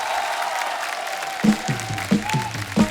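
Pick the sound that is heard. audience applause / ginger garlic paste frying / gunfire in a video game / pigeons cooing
audience applause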